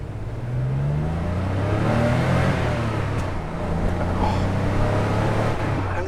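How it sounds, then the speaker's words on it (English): A 1989 Porsche 911 Speedster wide body's air-cooled engine drones steadily and loudly from close by, holding a sustained rev under a rushing road and wind roar with no talking. "The engine doesn't have a lot low down. You have to rev it to get the best out of it."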